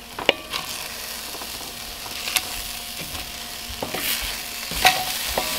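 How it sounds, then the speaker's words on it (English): Pork chops sizzling steadily on a hot backyard grill, with a few sharp clicks and scrapes of a utensil at intervals, fairly close and moderately quiet. "They're sizzling away."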